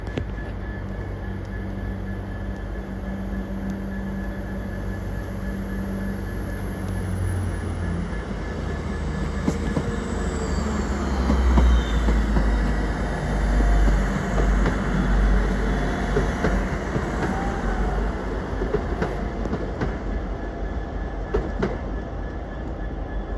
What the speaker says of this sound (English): departing now is the delayed 1410 transport for rail service to Tenby from Manchester Piccadilly